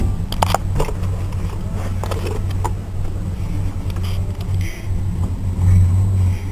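Car engine running at a low, slow idle, a steady close rumble that holds evenly throughout with a few faint clicks and rattles over it.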